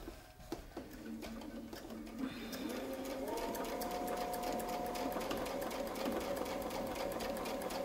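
A sewing machine quilts the Spinefex No 1 design, guided by a Westalee template as fabric and template move together. It starts softly, then settles into a steady, close, even running hum with no voices.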